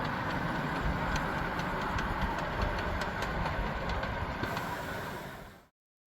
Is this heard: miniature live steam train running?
yes